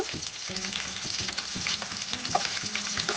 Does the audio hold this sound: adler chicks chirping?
no